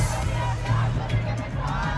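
A concert crowd at London's O2 cheers loudly, a dense continuous roar of shouts and whoops over thumping music.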